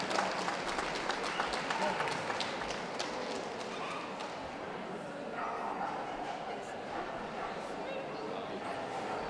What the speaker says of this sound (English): Ladies and gentlemen, a round of applause please for Sonya Saxby